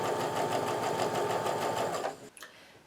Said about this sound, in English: Then I'm going to go ahead and sew